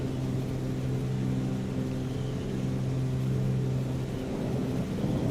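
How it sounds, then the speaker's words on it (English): Inside a Cessna 414 cockpit in Microsoft Flight Simulator with a window left open, wind rushes steadily over a constant droning engine hum, continuous and fairly loud throughout with no talking. "I love the way I've left the window open purely because of the wind sound"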